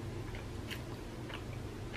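Someone chews crunchy homemade coconut cookies. A few soft, faint crunches come at a slow, irregular pace over a steady background hiss.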